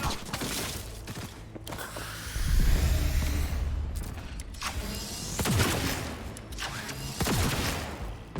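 Gunfire in the video game Cyberpunk 2077: dense bursts of shots with low booms and sharp cracks, repeating in loud clusters over a steady rumble of game ambience, with no talking.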